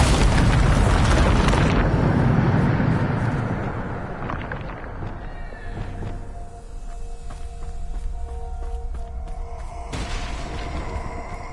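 Bombarda spell explosion in the Hogwarts Legacy video game: a massive, roaring blast that fills the first few seconds, then decays into a long rumbling tail with scattered debris and crackling, before a second surge near the end.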